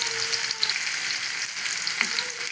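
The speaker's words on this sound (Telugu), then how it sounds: "ఇప్పుడైతే కొద్దిగా జీలకర్ర ఆవాలు వేసేసుకుంటున్నాను." Cumin and mustard seeds crackle and sizzle in hot oil with onion, green chili and curry leaves, a loud, close, continuous frying hiss with scattered sharp pops and a faint stirring clink.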